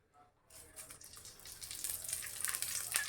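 Curry leaves hit hot oil in a kadai and start frying with a soft hissing sizzle that builds steadily and crackles faintly, close by with no talking.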